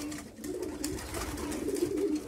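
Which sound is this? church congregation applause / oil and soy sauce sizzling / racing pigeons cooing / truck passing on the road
racing pigeons cooing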